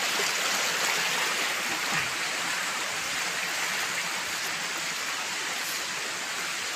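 Steady, full rushing of a flowing stream, continuous and close, with no breaks or voices.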